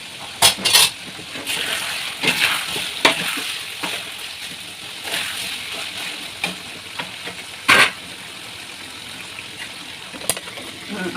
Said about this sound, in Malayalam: ഈ ടൈമില് മസാലകളൊക്കെ വാട്ടേണ്ടി കേട്ടോ.